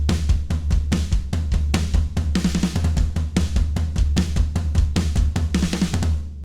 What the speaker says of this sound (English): So I'm going to be using EZdrummer 3's Bright Room kit.